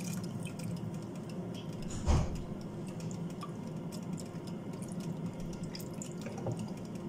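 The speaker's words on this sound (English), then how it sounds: "So now we're going to pour that in there." Lamb roasting juices poured into a pan for minted gravy in a home kitchen, a steady soft liquid drip and trickle with one brief louder splash near the middle, no talking.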